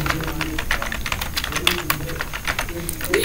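Steady clatter of fingers typing on a computer keyboard, quick irregular key taps running continuously at close range, with a faint voice murmuring beneath them.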